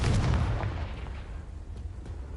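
A Confringo fire-blast spell bursts in Hogwarts Legacy, a low heavy boom at the start that decays into a rumbling, crackling tail, fairly close and alone without talk.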